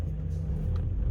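Low rumble of a VW MK5 Golf with a converted ASZ/ARL engine and a new clutch and slave cylinder, driving on the road, steady and close for a brief moment.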